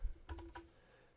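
A few quick keystrokes on a computer keyboard as an email address is typed, soft and close, with two or three clicks in a brief burst.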